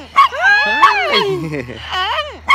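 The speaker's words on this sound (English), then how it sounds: "Oh, look at the puppies." Puppies give high yips and whimpering whines close up, in short bursts with a woman cooing over them in a friendly voice.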